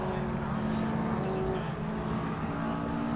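A Mark 1 Ford Fiesta race car at Knockhill in a classic saloon race: a steady, sustained engine drone at a distance, with a commentator talking over it.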